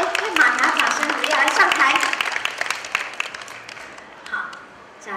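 A small audience at a skincare product demonstration breaks into brisk clapping that gradually thins and fades, with a person talking over it.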